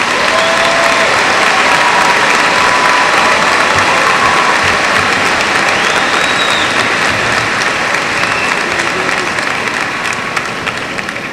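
A large crowd gives sustained, loud applause at a 2002 high school graduation ceremony, dense clapping running steadily throughout and easing slightly near the end.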